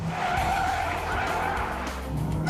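A sports car oversteers with its tires skidding, a continuous squeal riding over a steady, loud engine drone from start to finish, with no voices.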